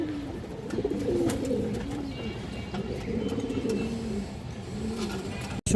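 A female high flyer pigeon coos repeatedly in low, rolling phrases close by, with faint rustling behind and a sharp click at the very end.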